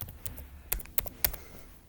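Keys tapped on a computer keyboard, a few sharp separate clicks in an uneven rhythm, close and fairly quiet, alone with no talk.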